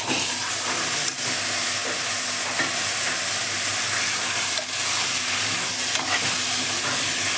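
Half a kilo of mutton sizzling loudly in a pan for gongura mutton, a dense continuous hiss and crackle up close with occasional stirring knocks.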